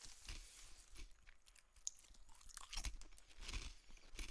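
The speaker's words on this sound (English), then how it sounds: "I'm eating aged white cheddar veggie straws" Aged white cheddar veggie straws get munched close to the microphone in quiet, crisp crunches, irregular chewing bites scattered across the stretch at low volume.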